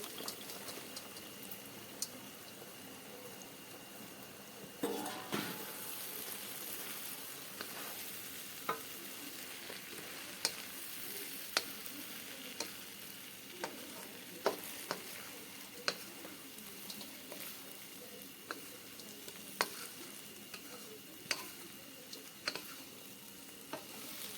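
In a village kitchen, pieces of bajra rotla are stirred into a sizzling curry in a pan. A steady frying hiss runs under repeated sharp scrapes and knocks from the spoon against the pan.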